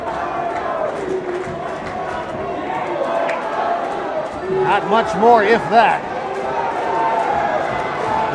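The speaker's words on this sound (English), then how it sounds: "You hear the crowd, they want Rhino." A crowd at a wrestling event roars and chants in the arena, a broad rumble that swells in the middle, while a commentator speaks over it.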